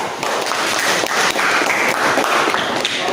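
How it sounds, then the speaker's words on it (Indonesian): Applause from a seventh-grade classroom: many hands clapping steadily and fairly loud, close by, for about three seconds with no voices. "Beri aplaus dulu."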